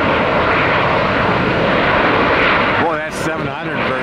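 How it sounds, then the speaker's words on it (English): A Boeing 737-700 jet airliner passes overhead during a busy airport rush hour, its loud, steady engine roar filling the whole stretch while a person talks over it. "that 700 version of that Boeing. Short and stubby, almost looks like a 319."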